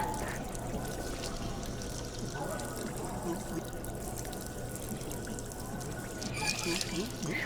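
Water pours from a household kitchen tap in a steady, continuous stream that runs the whole time. The flow is fairly quiet, and faint background voices sit beneath it.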